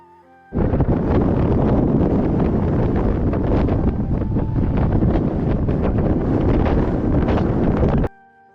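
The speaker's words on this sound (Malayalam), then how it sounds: "ഉയരം കൂടിയതോടെ ഇവിടെ കാറ്റും വല്ലാത്ത ശക്തി കാട്ടുന്നുണ്ട്" Strong sea wind at the Thiruvalluvar statue on its rock at the meeting of seas, roaring steadily into the microphone as a loud, continuous buffeting rush that starts abruptly and cuts off just as suddenly.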